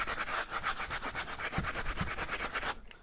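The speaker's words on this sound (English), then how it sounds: "nylon nail brush." A nylon nail brush scrubs briskly across a leather boot, a close, steady run of rapid rubbing strokes that stops abruptly near the end.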